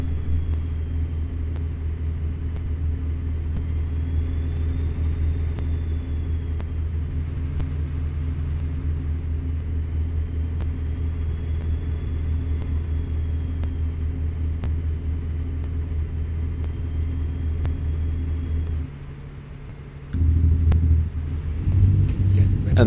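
Simulated Freightshaker Classic XL truck with a Caterpillar C13 engine in American Truck Simulator, a loud steady low diesel drone cruising for a long stretch, then briefly dipping and changing tone near the end.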